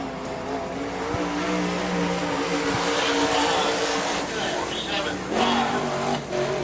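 A short-track race car laps a speedway during qualifying, its engine droning and shifting pitch as it circles, with a louder swell midway and a clear revving rise near the end; a track announcer's voice runs over it.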